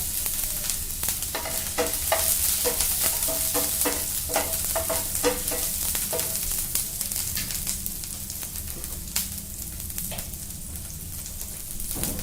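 Garlic, ginger and chili frying in hot oil for a tomato paneer fry, a loud steady sizzle broken by repeated scraping strokes of a spatula stirring in the pan.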